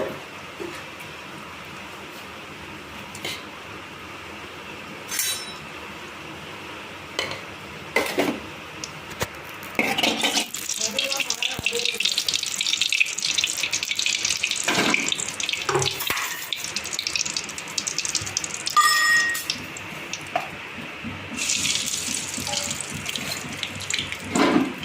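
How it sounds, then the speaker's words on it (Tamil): Mustard seeds and lentils splutter in hot oil, first as faint scattered pops, then as a loud, close, steady sizzle full of crackles that swells and eases. "கடுகு பருப்பு பொரியுது பாருங்கள்."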